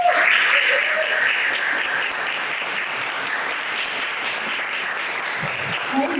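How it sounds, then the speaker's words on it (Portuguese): An audience at a poetry and oral-tradition event gives a sustained round of applause, loud and dense at first, then settling into a steady even clapping that carries to the end. "Então vamos dar uma salva de palmas para o Eliseu."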